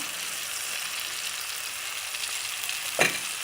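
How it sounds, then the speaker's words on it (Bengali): Onion paste fries in oil with garlic and green chilli, making a steady, close sizzling hiss that holds evenly, broken by one brief clack of a stirring spoon near the end. "এবার ভালো করে নেড়ে নেব। এটাকে কিছুক্ষণ ভাজতে হবে।"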